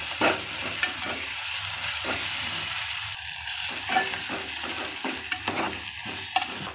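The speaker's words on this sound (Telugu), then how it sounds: "గార్లిక్ జింజర్ జింజర్ పేస్ట్ వేసుకోవాలి ఈ పేస్ట్ కాస్త పచ్చివాసన పోయే వరకు దీన్ని ఫ్రై అవనివ్వాలి" Garlic ginger paste frying in a pan for a mutton gongura dish. A soft, continuous sizzle runs throughout, broken by occasional stirring clicks and scrapes, with no voices.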